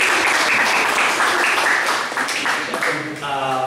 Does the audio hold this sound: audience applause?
yes